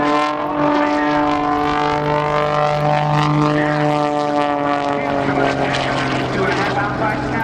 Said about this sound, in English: Notice the precision as Jim, utilizing the Bulldog's awesome 400 horsepower Lycon aircraft engine, pulls through the sky